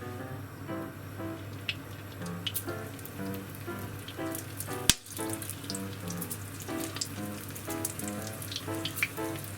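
Frozen shrimp frying in hot oil for shrimp mayo make a steady, dense, rain-like sizzle throughout, close by, with one brief sharp knock midway and soft background music underneath.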